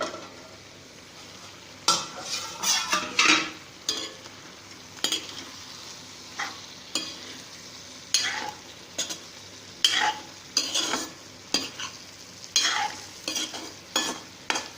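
Ivy gourd stir-fry is turned in a pan, with repeated bursts of scraping and rattling from the spoon over a low sizzle, coming in irregular clusters and close up, with no one speaking.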